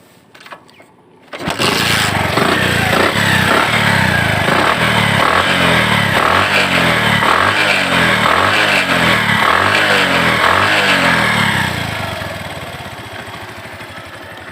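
A Bajaj Platina 100cc motorcycle engine starts after a short quiet moment, then runs loud and close with an even, rapid single-cylinder putter for about ten seconds before easing down slightly in level toward the end.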